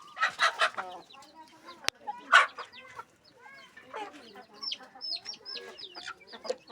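Chickens cluck and squawk in busy bursts close by, with high chick peeps scattered among them and one sharp snap early on, the calls rising and falling irregularly.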